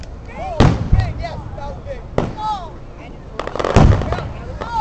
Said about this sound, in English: They keep shooting because they're dumb.